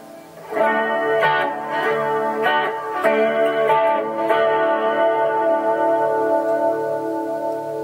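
Sustained electric guitar notes and chords with a shimmering, wavering chorus effect, loud and continuous with a few picked attacks.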